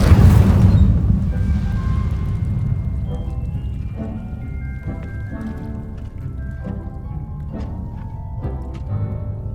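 Fiery Incendio spell blast in Hogwarts Legacy, a loud booming burst at the start that rolls into a sustained crackling, rumbling roar of flames with scattered pops throughout.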